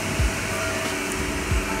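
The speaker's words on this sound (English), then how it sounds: "This is the laser engraving, and it is the coolest process ever." A laser engraving machine running in a factory in China gives a steady, even mechanical whir with a constant hiss, plus two brief low thumps partway through.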